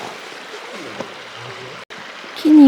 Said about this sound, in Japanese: 川でございます。